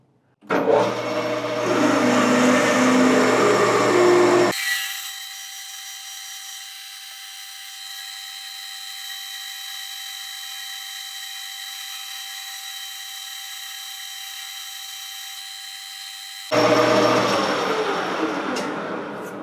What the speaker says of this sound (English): we're going to drill it out to a little over 2 inches